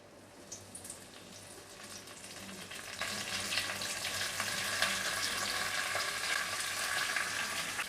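Curry leaves and onion hit hot oil for Mumbai railway-canteen misal, a quiet hiss that swells into a loud, steady crackling sizzle after a few seconds, with no voices.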